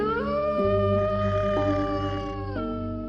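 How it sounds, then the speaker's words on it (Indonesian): An eerie drawn-out howling roar rises from a dark forest of black trees in a horror tale, loud and close, held in long tonal notes that shift pitch in distinct steps before fading slightly. "Terdengar suara raungan mendekat."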